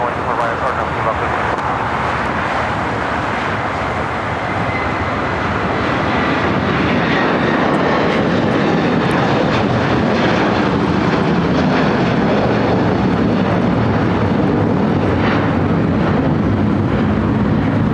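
A United Airlines Boeing 757-300 bound for Honolulu takes off from runway 24 right at LAX, a loud, broad, steady jet roar that fills the whole stretch without letting up.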